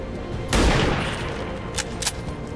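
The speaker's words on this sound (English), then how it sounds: "We'll take the shot with Danny first." A single loud gunshot goes off in XCOM 2, a sharp broadband crack with a short booming tail, followed by a couple of fainter clicks and taps from the game.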